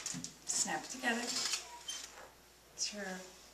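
Lightweight titanium wood stove panels are snapped together, giving a few light metallic clicks and clinks close by, with a soft scrape between them.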